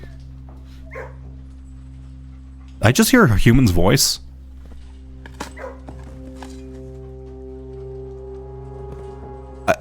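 Dog barking sounds from the video game Blue Prince, a loud burst of yips and barks lasting about a second amid a steady game music drone, with a person talking quietly over it.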